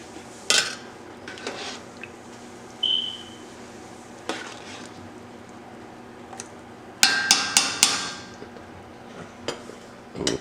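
A spoon stirs gumbo made with a homemade roux and green onion in a pot on a turned-off stove, giving sparse metallic clinks and scrapes with a quick cluster of knocks near the end, close and moderately loud.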